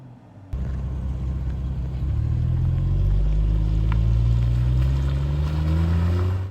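2022 BMW M240i xDrive (G42) engine cranking and catching after a quiet moment, then settling into a deep idle and a rising rev that swells and holds loud.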